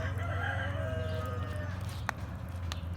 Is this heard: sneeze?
no